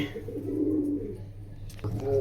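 Pigeons kept in a cage coo softly at close range, a low steady murmur running through most of the moment with a brief shuffle near the end.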